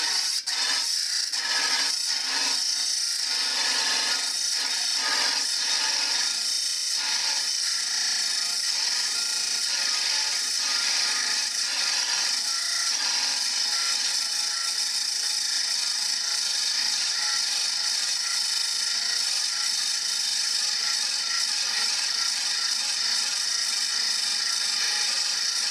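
A carbide cut-off wheel on a Journeyman tool grinder cuts through stock with a continuous, loud, high-pitched grinding whine, steady and close throughout with no talking.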